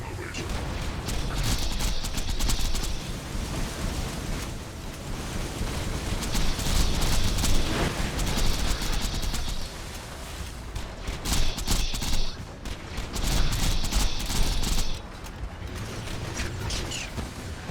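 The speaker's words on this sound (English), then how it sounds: "Charging my laser." Laser weapon in Borderlands 2, charged and fired in combat with the character Maya during an endgame raid on Digistruct Peak, a dense, steady barrage of mechanical whirring, bursts and explosions repeating in loud waves throughout.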